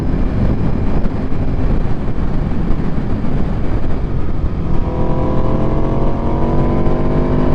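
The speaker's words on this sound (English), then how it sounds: "There's just something very unique about the way this bike sounds" A motorcycle engine runs loud and steady throughout, its pitch rising partway through as the revs climb, with no voices present.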